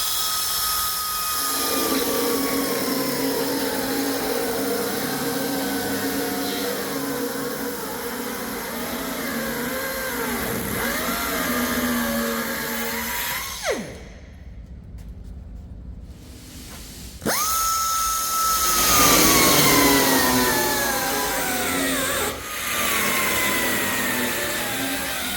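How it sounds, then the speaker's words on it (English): A 5-inch angle grinder with a 1mm cut-off wheel cutting steel on a heavy crane front end fabrication, a loud, steady, close high whine that drops away briefly mid-cut and then resumes. "Now to finish cutting it, I'm going to use a 5-inch grinder with a 1mm cut-off wheel."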